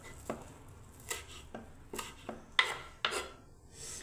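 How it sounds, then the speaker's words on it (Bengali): A knife chops fresh coriander leaves on a board in a home kitchen, about eight crisp, evenly spaced strikes sounding close and clear with no talking. "এবারে বন্ধুরা একটু ধনে পাতা, সেটাও আমি কেটে নিচ্ছি বন্ধুরা"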